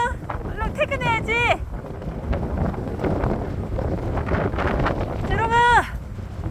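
A strong gale roars steadily against the microphone on Jeju, close and rumbling throughout. Voices break in over it with high, bending calls, near the start and again toward the end.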